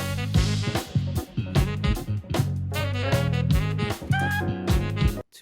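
Jazz fusion playing with punchy drums, bass and bright melodic lines, busy and loud throughout, no voices.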